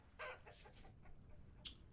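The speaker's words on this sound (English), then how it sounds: "Chickens, how are you doing" Chickens in the Vintage Story video game cluck in a few short bursts, fairly close and clear over a low, steady background hum, with no talking.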